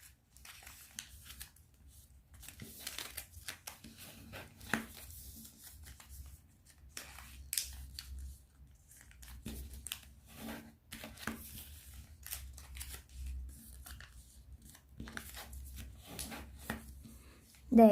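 Paper being folded and creased by hand for a Paperblade dragonfly, faint intermittent rustles and soft crisp creasing taps scattered through a quiet room, with a louder handling noise at the very end.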